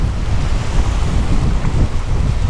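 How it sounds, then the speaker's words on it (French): Strong summer Mistral, around 60 km/h, blasting across a whitecapped coast near Fos-sur-Mer, a steady loud roar of wind buffeting the microphone with low rumbling gusts and surf beneath, no voices. "Plein été, gros Mistral."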